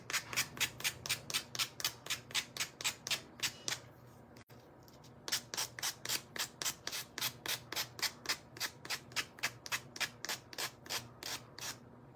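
Sandpaper rubbed back and forth in quick, even strokes, about two per second, close and fairly quiet, with one short pause midway before the steady rhythm resumes.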